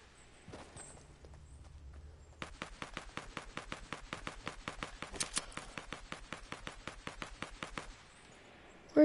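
Steady, evenly spaced video-game gunfire, a long run of rapid identical shots at a moderate distance after a quieter lead-in, with a sharp loud hit at the very end and no speech.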